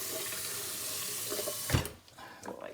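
Kitchen tap running water into a blender for green chili, a steady close hiss for almost two seconds, ending in a low thump, then quieter handling sounds.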